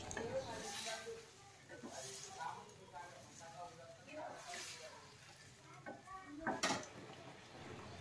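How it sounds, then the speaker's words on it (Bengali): Boiled peas and potatoes are stirred into a spiced masala for ghugni, with soft, irregular scraping and clinking strokes of a spoon in the pan under a faint sizzle, heard quietly with some voice in between. "এবার এগুলোকে ভালো করে নাড়াচাড়া করে মিশিয়ে নেব।"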